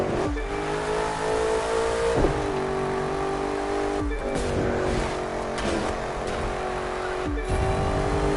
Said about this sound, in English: Almost finished this race, Ron.